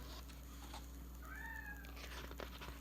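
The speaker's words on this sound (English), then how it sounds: "Do you hear my kitty crying?" A faint cat meows once or twice, a thin rising cry over a steady low hum and light background noise.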